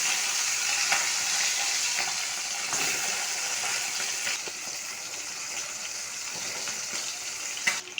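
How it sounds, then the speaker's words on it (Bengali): Bata fish sizzles steadily in hot mustard oil in a wok, a loud, even, crackling hiss that runs the whole time, broken by a few sharper spits and pops, with no voices. "এক পিঠটা ভাজা হয়ে গেছে, আর এক পিঠটা উল্টিয়ে দেবো।"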